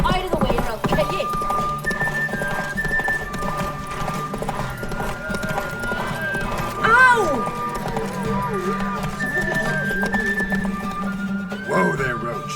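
A horse gallops in The Witcher 3 with rapid, steady hoofbeats and clopping throughout, a neigh rising midway, all under a music score and spoken voices.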